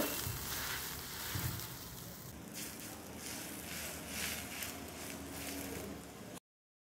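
A faint, steady crackle and sizzle of buttered pav bread toasting on a hot griddle continues throughout, then stops abruptly.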